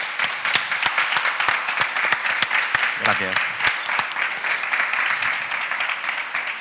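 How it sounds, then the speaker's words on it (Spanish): Steady audience applause in a festival masterclass hall at Meetings FesTVal Lanzarote, greeting a TV producer; dense hand clapping with sharp individual claps runs throughout, and someone briefly says thanks partway through. "un aplauso para él"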